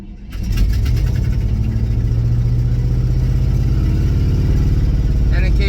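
A 1965 International truck engine runs on a hand throttle, starting abruptly and holding a loud, steady rumbling idle with slight uneven surges throughout.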